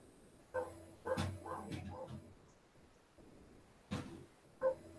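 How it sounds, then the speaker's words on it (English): A dog barks indoors at home, a few separate barks and yips at moderate distance, with quiet pauses between them. "Sorry about the barking there,"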